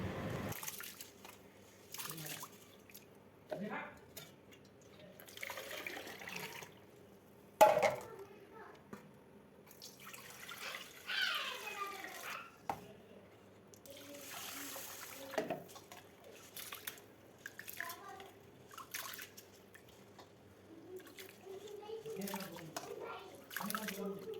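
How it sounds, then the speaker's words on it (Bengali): Rice is rinsed by hand in a bowl of water, with soft sloshing, squishing and dripping that comes and goes for the whole stretch, close by, while a voice talks now and then. "চালগুলো আমি ধুয়ে নিই ভালোভাবে"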